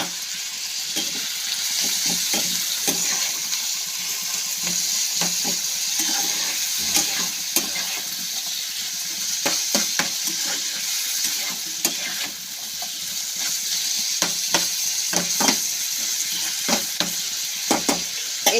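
Bitter gourd and potato fry in a pan with salt and turmeric, a loud steady sizzle punctuated by frequent sharp clinks and scrapes of a spatula stirring throughout.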